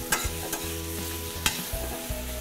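Veal being turned and coated in Marsala sauce in a pan, with a steady sizzle under repeated scraping, clattering stirs and a few sharp utensil knocks close by.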